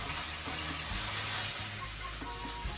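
Lamb fat trim and a bit of cartilage sizzle loudly and steadily in a pan on the stove, a dense close frying hiss with a low hum underneath.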